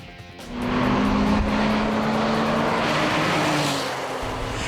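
A 2007 Porsche 911 Turbo drives at Watkins Glen, New York, its engine rising into a loud sustained roar with a steady tonal drone, close and dominant, with no speech.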